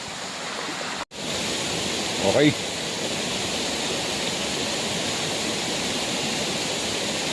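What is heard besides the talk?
waterfall at Pasukin Falls Spring, Ilocos Norte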